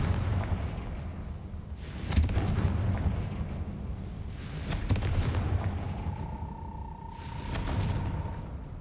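Explosions from a Confringo fire spell in a wizard video game: several booming blasts over a constant rumbling background, with a steady tone ringing out late on.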